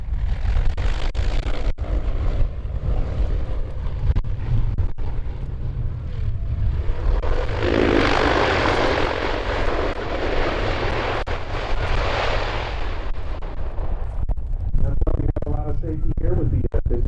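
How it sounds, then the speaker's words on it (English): A C-123 Thunderpig cargo plane lands in strong crosswinds, its engines droning in a loud, sustained roar that surges in the middle and rumbles with wind buffeting throughout. "Strong crosswinds pushed the C-123 Thunderpig sideways during landing"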